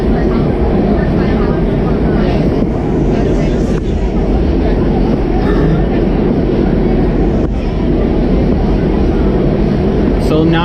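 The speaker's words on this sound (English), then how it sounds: "Alright, train coming in." A WMATA Red Line Kawasaki 7219 railcar arrives at Bethesda station, a loud low rumble filling the underground platform steadily, with faint voices beneath.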